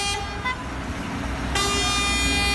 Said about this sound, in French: Les klaxons sont source de nuisances sonores.